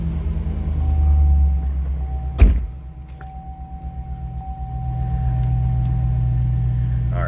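A 2004 Chevrolet SSR starting up: a brief crank and sharp catch, followed by a smooth, steady idle rumble from inside the cab.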